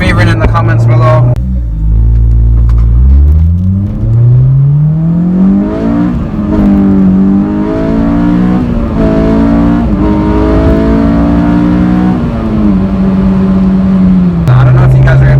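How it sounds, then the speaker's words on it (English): A supercar with a slipping clutch accelerates hard, its loud engine note climbing steadily through a long pull, dipping briefly, then rising again and settling into a sustained roar close by. "I don't know if you guys were able to hear in that last pull, but the clutch is definitely slipping"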